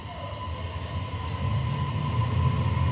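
Steady low rumble of a JR Hokkaido Rapid Airport train departing Shin-Sapporo Station on the Chitose Line, with a sustained tonal hum and rolling mechanical noise building slightly louder over a few seconds.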